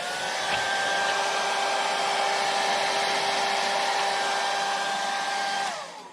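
Hair dryer drying a watercolor painting, a steady close whir with a constant motor hum running unbroken for about six seconds before it is switched off and winds down.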